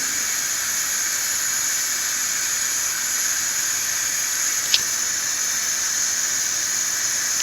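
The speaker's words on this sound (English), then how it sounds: "The next step is you add some oil." Oil poured into a pot of jollof rice with blended mixture, giving a steady, even hissing sizzle that holds throughout, fairly close, with one tiny click partway and no talking.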